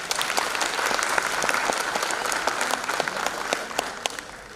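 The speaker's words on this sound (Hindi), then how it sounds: "एक बार जोरदार तालियां" An indoor audience gives a sustained round of applause, dense clapping from many hands at a moderate distance, steady for several seconds before easing slightly.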